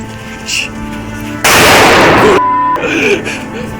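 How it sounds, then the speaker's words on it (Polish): A firecracker blasts inside a pipe at night on a snowy New Year's Eve, a loud sudden bang with a long booming echo filling the building, with voices heard before and after. "rzucić petardę do tej rury, gdzie huk się odbije na cały budynek"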